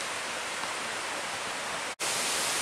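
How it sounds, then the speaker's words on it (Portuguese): Cachoeira das Lágrimas waterfall on Monte Roraima, a loud, constant broadband rush of falling water with a momentary dropout near the end before the roar resumes, no voices. "finalmente vamos passar a famosa Cachoeira das Lágrimas"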